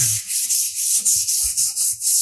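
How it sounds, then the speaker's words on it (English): Sandpaper rubs back and forth by hand across wooden project edges in quick, regular strokes, about eight scratchy passes, close and loud with no talking. "just take a piece of sandpaper"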